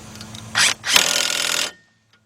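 A power tool or impact wrench buzzes in two short bursts on a hub bearing bolt of a 2007 Ford Focus, using a half-inch drive socket, then cuts off to silence.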